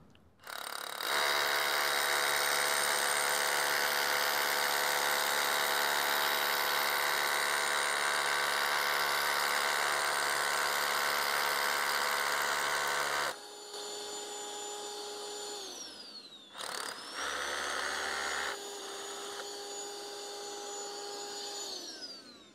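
Bosch GBH 187-LI cordless rotary hammer drilling with an attached dust vacuum, a loud sustained whining drone for over ten seconds, then a lighter motor hum that dips and spins back up, with no talk.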